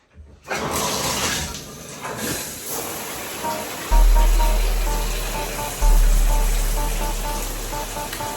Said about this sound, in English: now I'm about to test the shower